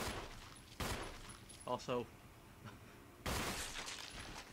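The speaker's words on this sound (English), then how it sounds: "I'm impressed I was shooting forwards and he was stood there and the pistol got him." A few sharp, separate pistol shots ring out in Resident Evil, loud against a quiet background, with brief speech between them.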